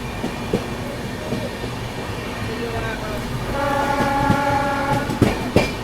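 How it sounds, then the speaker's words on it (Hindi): Kanpur Shatabdi Express running fast past a standing Patna–New Delhi Amrit Bharat Express, a continuous rolling rumble with clattering wheels, swelling louder in the second half, and tonal horn or squeal lines toward the end. "कोई अमृत भारत एक्सप्रेस यहाँ लगी हुई है, इसको भी ओवरटेक कर रही है अपनी ट्रेन"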